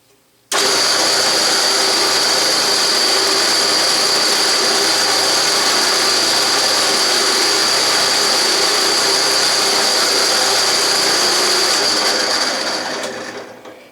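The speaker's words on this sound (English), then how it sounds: "And I have to rub the tire against the blade, but not the teeth." Rubber tachometer tire pressed against the running blade of a band saw gives a steady, loud machine whir with a constant high tone, lasting unbroken for about twelve seconds before spinning down.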